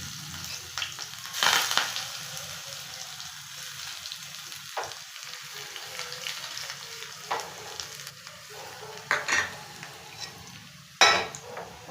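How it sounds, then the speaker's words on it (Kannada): Mustard seeds dropped into very hot oil for tempering, crackling and spluttering at close range with occasional sharp pops and a few pan and utensil knocks; no voices. "ಎಣ್ಣೆ ಬಿಸಿಯಾಗಿದೆ, ಅದಕ್ಕೆ ನಾವು ಸಾಸಿವೆ ಹಾಕೋಣ"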